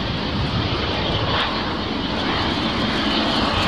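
A Condor airliner landing on runway 27L at London Heathrow in windy conditions gives a loud, continuous engine roar that holds steady throughout, with no talk.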